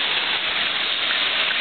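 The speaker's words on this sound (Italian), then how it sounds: "tutta grandine, una cosa grandinata." Heavy cloudburst with hail pounding down in Santa Maria delle Mole, Marino Laziale: a dense, continuous hiss of rain and hail that is steady and loud throughout, with no voices.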